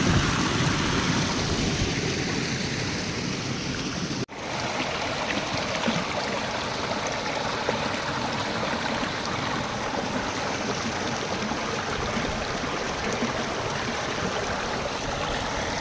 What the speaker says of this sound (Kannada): ಇಲ್ಲಿ ಹೀಗೆ ಹೋಗ್ತದೆ ಪ್ಯೂರ್ ಶುದ್ಧ ಹೊರತೆಯ ನೀರು ನೋಡಿ